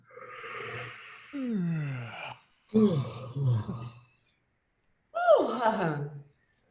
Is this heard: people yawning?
yes